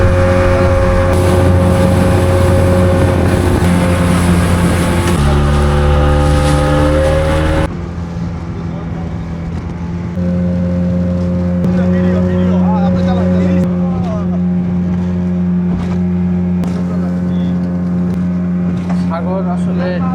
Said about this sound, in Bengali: আর আমাদের এই যে স্পিডবোট কিন্তু চলে যাচ্ছে